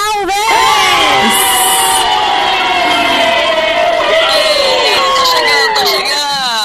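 Studio audience cheering and applauding to welcome a guest announcer onto a podcast set, a loud continuous roar of shouts and whoops with a whistle, lasting throughout.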